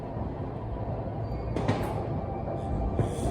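Metro train interior during a subway ride to the airport, a steady loud rumble of wheels and motor throughout with a few brief clattering knocks and rattles near the end, no talking.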